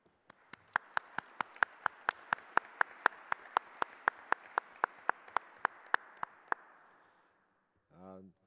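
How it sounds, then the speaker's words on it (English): Applause in sharp, evenly spaced claps, about twenty in a row over a soft hiss, then quiet and a brief tone at the end. "Dear Domenico, I hope you hear this very strong applause"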